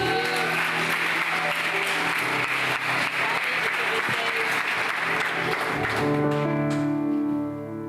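A church congregation applauds for Jesus with sustained, dense clapping filling the room, then tapering off near the end as musical tones emerge underneath.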